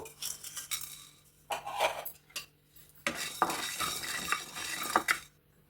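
Coriander seeds, cumin and pepper are dry roasted in a pan. A spoon scrapes and clinks against the metal in uneven bursts with short pauses, close by and without voices.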